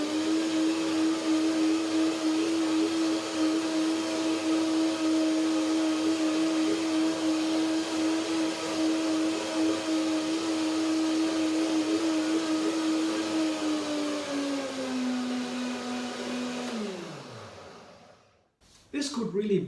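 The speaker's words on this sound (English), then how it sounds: "Blender dance one more time to finalize the dressing." A blender mixing salad dressing whirs at a steady high pitch for a long stretch, then winds down as the motor spins to a stop, followed by a brief clatter.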